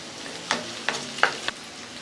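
Garlic cloves, tamarind and onions sautéing in a pan, with a faint sizzle under four short, separate scraping stirs close by, and no talk.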